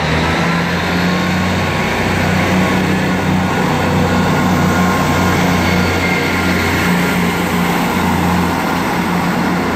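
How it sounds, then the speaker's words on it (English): An East Midlands class 158 diesel unit pulls away on the WCML Liverpool branch, a steady low engine drone with a strong throb that stays loud and even throughout, with no talk. "departing now is going to be the 1803 East Midlands train service to Norwich."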